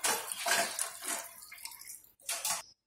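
A cup of water poured into a pot of amaranth leaf soup, a close splashing and gurgling stream that tapers off, then a brief second splash.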